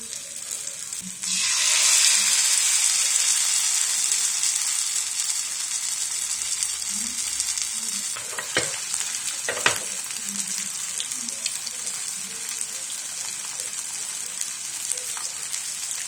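Jackfruit fritters in batter frying in hot oil, a loud, close, steady sizzle that jumps up suddenly as the pieces go in and then holds an even crackle, with occasional clinks of a utensil and no talking.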